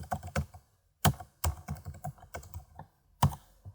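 Someone types on a computer keyboard, filling in a test credit card payment form. Irregular clusters of close, crisp key taps come with short pauses between them.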